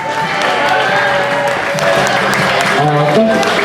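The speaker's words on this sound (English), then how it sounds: "Let's give them a round of applause to the newlyweds." Wedding guests applauding the newlyweds at a reception, a steady, dense wash of clapping from a crowd with cheering and chatter mixed in throughout.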